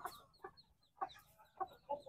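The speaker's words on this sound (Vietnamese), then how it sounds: "cái đàn gà mấy bữa hôm trước là mình xuống đó được 3 4 ngày mà nó ở dưới đất không" Chickens from a naturally raised flock clucking softly, a few short, faint clucks in quick succession, close but quiet, with no talk.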